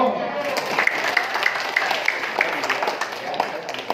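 An audience at a business presentation claps steadily for several seconds, a broad patter of hands filling the room, with a voice talking over the applause.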